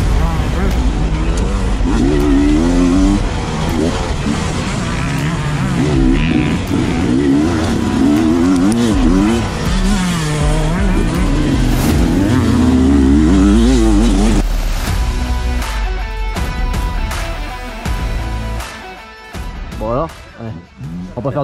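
A Beta enduro motorcycle engine revs loudly and close by, rising and falling in pitch over and over, then settling toward a rougher idle near the end.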